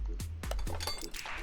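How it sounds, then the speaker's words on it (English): A brake caliper refitted in the video game Car Mechanic Simulator 2021, heard as a quick series of close metallic clinks and taps in about a second and a half. "Put the brake caliper back on."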